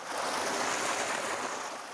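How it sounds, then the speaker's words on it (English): Water rushes steadily through a traditional wooden whirlpool used for washing wool in the Maramures region. The churning roar is loud, dense and constant, with no voices. "The force of the water alone cleans the wool."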